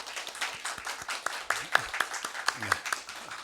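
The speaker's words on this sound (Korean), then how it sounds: "우리 축복의 또 환영의 박수 한번 쳐드리면 감사하겠습니다" A congregation applauds with scattered, uneven claps at a church service opening a university's autumn semester, moderately close, while a voice murmurs faintly underneath.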